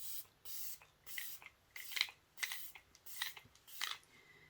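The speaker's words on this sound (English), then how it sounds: "I'm taking the Microfine setting spray from e.l.f. This is the Stay All Night Setting Mist." Faint mist sprays of e.l.f. Stay All Night setting mist hiss in a series of short, evenly spaced pumps, about eight in a row, close by.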